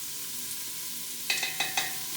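Minced garlic sizzles steadily in a hot pan, with four sharp scraping stirs near the end over the constant frying hiss; no talking.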